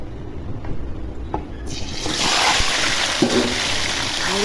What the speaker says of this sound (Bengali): এখন মেখে রাখা মাংসগুলো ঢেলে দিব কড়াইয়ের মধ্যে।